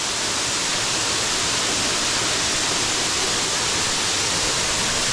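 A waterfall on the Sougahoagdee Falls trail in Alabama roars up close as a loud, steady rush of broadband noise, with no voices.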